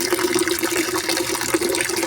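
Water poured and splashing while fertilizer is mixed into 10 litres of water for flowering plants, a steady, close liquid gush with no talk.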